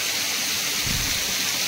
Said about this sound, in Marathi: पाणी पडतंय सगळ्या अंगावर.